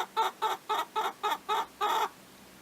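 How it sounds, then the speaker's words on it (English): A chicken clucks in a quick, even series of about seven short, close, clear notes, the last slightly longer, with no other sound around them. "it's a chicken eating the ashes."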